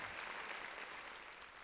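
A round of applause from a studio group, dense steady clapping at an even, fairly soft level throughout.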